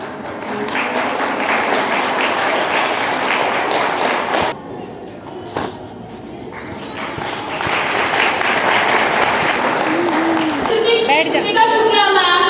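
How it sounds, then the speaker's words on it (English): Students at a school event clap together in a dense, sustained burst that dips briefly midway and then swells again, with voices mixed in underneath. "Don't stop your clap."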